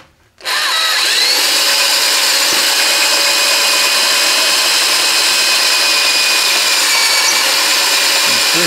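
A power drill bores a hole into a metal juice press part, steadily deepening the cut with lubricant added: a loud, continuous high whine that starts abruptly after a brief quiet moment and holds without pause.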